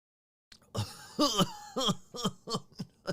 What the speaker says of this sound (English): keep the coughing under control